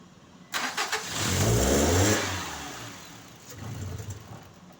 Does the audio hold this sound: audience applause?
no